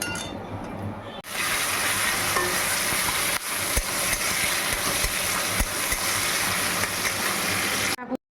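Loud, steady sizzling of food frying in a pan for a potato, pointed gourd and fish curry, with occasional clinks and stirring scrapes, continuing for several seconds after a quieter start.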